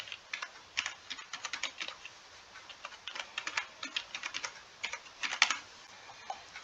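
Fingers typing on a computer keyboard to enter an email address into an online visa application form, a quick irregular patter of close key clicks in short bursts with brief pauses, no voices.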